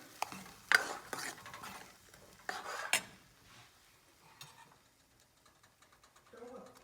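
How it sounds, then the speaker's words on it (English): A spoon stirs a chola bhatura mixture in a pan, giving several sharp scraping and clinking strokes near the listener, followed by softer rustling and a faint sizzle. "And then stir the mixture."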